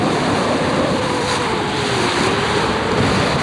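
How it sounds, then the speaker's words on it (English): The B-40 yawl Blue Chantey sails at sea under full plain sail and staysail at about 7 knots during the 1997 Marion Bermuda Race, with a loud, steady rush of wind and waves washing past the hull. "Here's the yawl blue Chantey reaching south for Bermuda"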